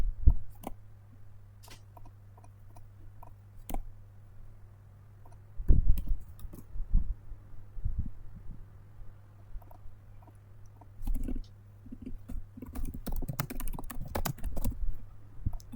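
Computer keyboard keys click in short sparse bursts as Ctrl+C and Ctrl+V copy-and-paste shortcuts are pressed, close and fairly quiet, with a busier cluster of rapid taps toward the end and a low steady hum beneath.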